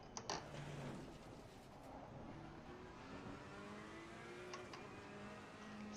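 A Ferrari 488 GT3 Evo race car engine, heard from inside at fairly low level, with a droning, shifting engine note that rises and settles through gear changes over steady road and wind noise.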